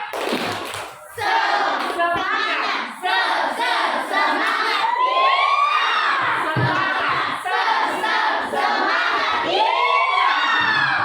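A class of schoolchildren performs a 'tepuk semangat' clapping cheer during a coding lesson. Close, loud shouted chanting in unison runs almost continuously, with rhythmic bursts of voices and claps.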